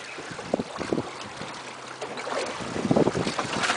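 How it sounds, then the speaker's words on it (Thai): Strong wind roars and buffets the microphone aboard a fishing boat at sea, a steady broadband rush with gusts swelling louder toward the end, mixed with water and engine rumble. "โอ้ลมแรงมากฮะตอนนี้"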